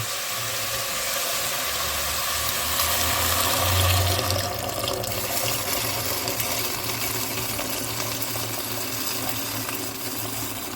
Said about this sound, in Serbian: I nalit ću vodu.